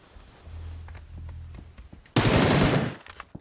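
A burst of automatic gunfire in PUBG, loud and sudden after a quieter stretch of faint thumps and movement, lasting about a second before fading.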